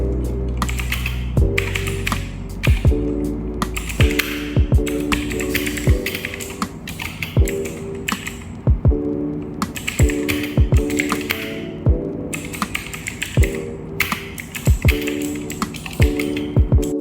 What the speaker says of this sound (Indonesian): Kurang lebih seperti ini suara dari keycaps dengan Blue Switch.